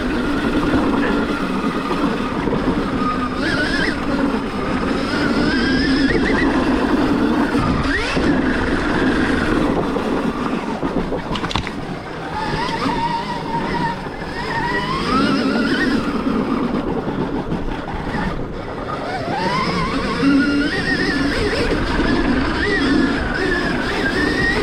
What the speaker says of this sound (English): this is the first time I've ever been up here on my moto track on a full-size dirt bike, like seriously riding